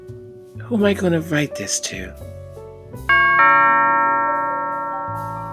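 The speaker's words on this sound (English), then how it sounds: "That is the doorbell." A doorbell rings out with a sustained ding-dong chime whose tones ring on and slowly fade, following a woman's speech.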